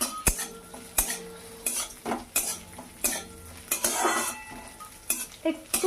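Cashews and raisins fry in ghee in a wok for pulao, sizzling gently while a metal spatula scrapes and clinks against the pan in a repeated stirring rhythm, close by.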